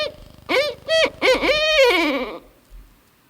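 An owl hoots at night in a winter woodland, several clear, rising-and-falling calls in quick succession, close and loud, then trailing off into quiet.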